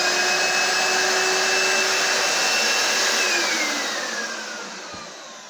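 A carpet cleaner's motor whines loud and steady, then begins to wind down and fade near the end.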